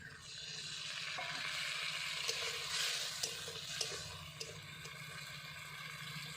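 Watery ground spice paste hits a pan of frying fish curry base, giving a soft, fairly quiet sizzle and bubbling with a few sharp clicks as it is stirred, and no one talking.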